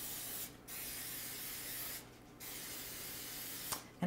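Several short hissing bursts of cooking oil spray onto a muffin pan, three quick sprays separated by pauses, close and fairly quiet over faint room noise.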